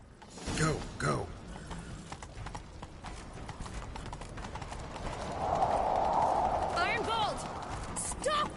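Horses gallop in a chase in the video game Witcher 3, their hoofbeats running steadily through the scene under shouted game dialogue, with a louder rumbling stretch of riding toward the end.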